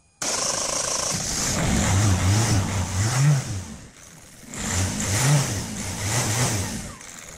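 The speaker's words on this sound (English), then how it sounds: "and after that the car will start" A diesel car engine, just fitted with repaired fuel injectors that no longer leak, cranks and catches, then runs with a steady rumbling idle that swells in two revving surges, close and loud with no talking.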